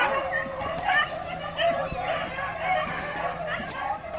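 Pack of beagles on their first rabbit hunt, baying and yipping continuously in overlapping barks outdoors, loud and close, with some talk mixed in.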